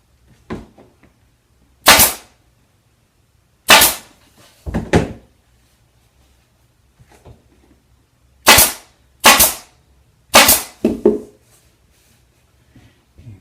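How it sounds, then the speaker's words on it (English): A staple gun fires staples through fabric into a wooden cornice during upholstery work: about eight sharp, loud snaps in irregular pairs and singles, close by, with quiet handling noises in between. "And I'm going to staple this on."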